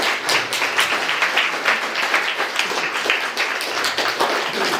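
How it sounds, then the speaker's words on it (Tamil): A crowd at a Founder's Day celebration applauds with dense, continuous clapping that holds steady throughout and has no voices over it. "கைத்தட்டல் இன்னும் கொஞ்சம் பலமா இருந்தா நல்லா இருக்கும்."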